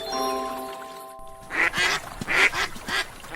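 Cartoon duck quacking in a children's animated folk story, a few short nasal quacks in quick succession over soft background music, close and fairly loud.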